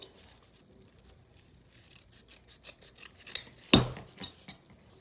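Scissors snip through cheer-bow ribbon, with faint rustling handling noises and then one sharp, close cut followed by a few lighter clicks.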